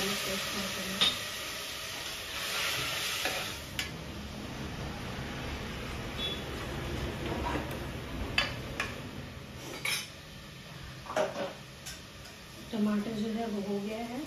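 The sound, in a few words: tomato masala frying in a pan after adding water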